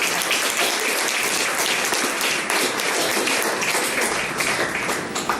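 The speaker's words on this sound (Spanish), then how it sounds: "Si va a aplaudir, apláudalo." A church congregation applauds steadily during a Sunday sermon, a dense, sustained wash of many hands clapping that stays loud and even from start to finish with no talk over it.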